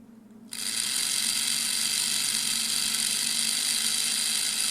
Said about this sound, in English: Let's start by putting a little bit of power to those and see if this motor has any life in it.